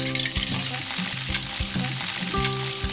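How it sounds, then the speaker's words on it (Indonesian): Boiled chicken pieces fry in hot oil, giving a loud, continuous sizzle and crackle close up, with a few scraping stirs mixed in. "Goreng ayam sampai setengah matang."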